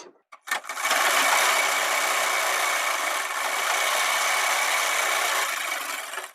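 A sewing machine runs steadily, stitching a kurti sleeve seam: a continuous mid-pitched mechanical whir that starts after a brief pause and holds at a constant loud level.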